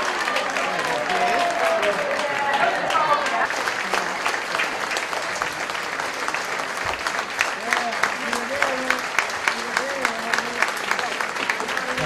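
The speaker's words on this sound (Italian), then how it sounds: "Applausi." Spectators applaud at an Eccellenza football match between OltrepoVoghera and Magenta, sustained clapping and crowd noise running throughout beneath a commentator's continuous talk.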